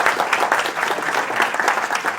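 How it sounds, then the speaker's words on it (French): A crowd at a political rally in London claps in a dense, lively burst of applause, close and loud, with individual claps standing out in an uneven rhythm and no talking over it. "Vous pouvez vous applaudir."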